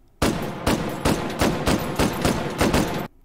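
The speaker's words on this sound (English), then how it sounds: "And you grab your crank and you start cranking. And it looks like it's firing out of the bottom barrel." A hand-cranked Gatling gun in the VR game H3VR fires a fast, loud, evenly spaced burst of about eight shots over three seconds, then stops abruptly.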